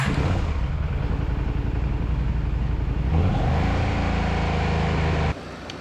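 A KTM 890 motorcycle engine idles after a cam change, a steady loud close running note with a slight rise near three seconds, then cutting off abruptly just before the end.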